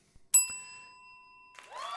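A single bright bell ding sounds during a live morning stream, struck once and ringing out clearly before fading over about a second, followed by a faint rustle.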